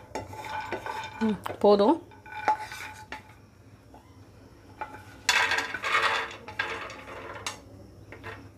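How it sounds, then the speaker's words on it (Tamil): Dry nuts are stirred in a pan over a low flame, with metal spoon clanks and rattling scrapes in uneven bursts, close by, and a brief spoken word partway through. "லோ ஃப்ளேமில் வச்சு கொஞ்சம் ஃப்ரை பண்ணி எடுத்துங்க"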